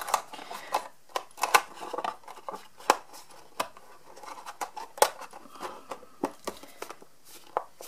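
Scissors snip around the corners of a chocolate mould, a series of sharp, close, irregularly spaced cuts over a quiet background, some clustered in quick pairs.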